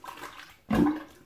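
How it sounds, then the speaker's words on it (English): Water suddenly bursts from a tap to rinse something off, a short splashing rush that starts after a quiet moment and runs to the end. "Let's rinse all that out. Rinse this off."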